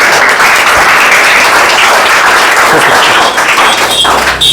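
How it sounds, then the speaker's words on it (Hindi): A classroom of students claps for a classmate who scored 18 out of 23 on a weekly test, a loud, dense, steady burst of applause filling the room with no talking. "ताली बजा दो"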